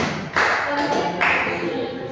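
Voices chant a counting rhyme while a group claps along, with three sharp clap bursts landing roughly half a second apart over the chanting.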